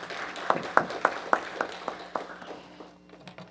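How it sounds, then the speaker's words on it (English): A small round of applause at a city council meeting, a handful of distinct, fairly quiet claps at a steady rhythm that thin out and fade. "Please give him a round of applause as well."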